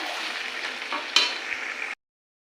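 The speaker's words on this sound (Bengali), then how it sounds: "এটা একটু দিয়ে দেবো বিরিয়ানির মশলা দিয়ে ভালো করে নেড়ে চেড়ে নেবো।" Mutton stirred with biryani masala in a pan gives a steady frying hiss with one sharp scrape partway through, lasting about two seconds before cutting to silence.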